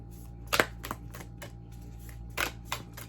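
Love oracle cards being shuffled by hand, giving soft irregular riffling and tapping bursts with a couple of sharper clicks, close and quiet over a steady low room hum.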